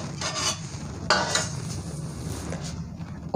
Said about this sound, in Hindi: अब हम इसको ऑयल को मिला लेंगे अच्छे से